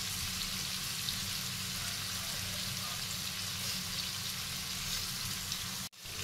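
Paneer pieces fry lightly in oil in a pan for veg fried rice, a steady close sizzle and crackle that holds evenly throughout before a brief knock near the end.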